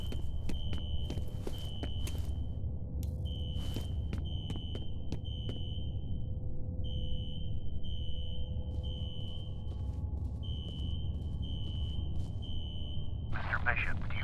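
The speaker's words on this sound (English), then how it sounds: "A fire alarm. It was triggered at a security office on that floor." A fire alarm rings in the video game F.E.A.R., a high electronic tone pulsing in regular bursts with short gaps, over footsteps and a low ambient hum, with sharp clicks and a garbled burst near the end.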